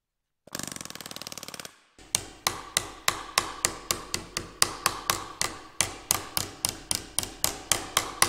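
A burst of rapid mechanical rattling, then a long run of sharp, evenly spaced metal-faced hammer strikes on metal aircraft fuselage splice plates, close and loud, ringing briefly after each blow.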